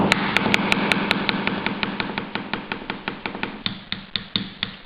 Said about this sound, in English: Find the pump.